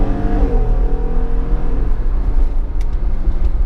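A 2018 Jeep Wrangler Unlimited Rubicon accelerating, heard from inside as a steady low engine drone with road rumble that stays loud and even throughout.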